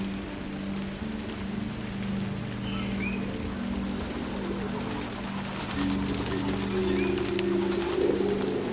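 Pigeons in a video game coo softly in a few short calls over a steady background hum and light patter, faint and somewhat distant.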